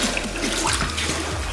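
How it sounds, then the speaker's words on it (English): Water runs from a faucet in a short, steady trickling stream, close by and continuous, with no talk over it. "you guys are gonna have to fill it up with some water."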